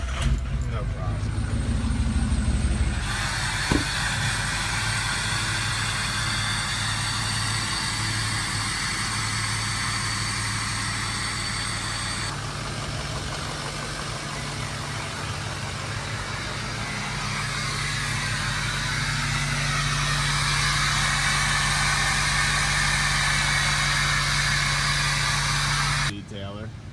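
A long-idle truck engine, started after two new batteries were fitted and running very low on fuel, settles into a steady rumbling idle that continues for the whole stretch, loud and close, with people talking over it.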